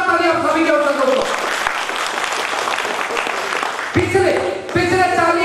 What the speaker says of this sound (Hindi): जबरदस्त ताली आप सभी के उत्तर दो।